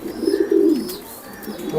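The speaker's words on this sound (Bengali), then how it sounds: "বাচ্চা মানে বিদেশি কবুতরের বাচ্চা" Foreign racer pigeons coo in a low, rolling, close-up burble that fades toward the end, with no voices.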